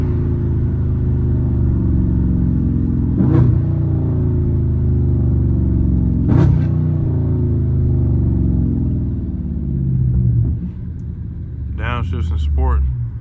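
A Dodge Charger Scat Pack accelerating hard in sport mode, its deep V8 rumble loud and close from inside, broken by sharp shift cracks and downshift blips; a voice speaks briefly near the end.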